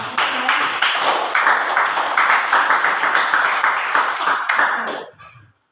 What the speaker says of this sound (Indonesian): Oke, kita beri tepuk tangan untuk